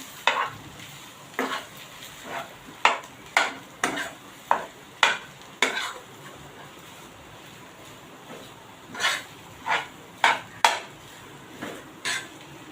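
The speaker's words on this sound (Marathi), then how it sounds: "बटाट्याचा किस घालूया आपण याच्यामध्ये आणि चांगला मिक्स करून घेऊया" Grated potato being mixed in a bowl, a run of crisp scraping stirring strokes in irregular bursts, a pause in the middle, then more strokes, close and fairly quiet with no talking.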